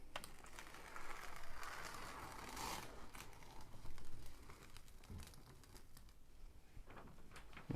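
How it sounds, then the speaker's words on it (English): Quiet crackling and tearing rustles as a plastic strip is peeled back on a diamond painting kit, irregular bursts of sharp crinkle close by with short pauses between, and no talking. "just peel it again."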